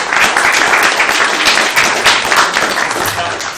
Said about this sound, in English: A round of applause for Steve as well.